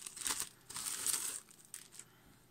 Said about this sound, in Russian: вот он запакован в пакетик. Открыли, достали.